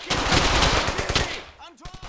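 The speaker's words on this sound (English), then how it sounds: "So there's an MG. This can be a problem." Machine gun fire in the video game Brothers in Arms: Hell's Highway: a rapid, dense burst of shots, loud and close, that stops partway, followed by someone speaking briefly.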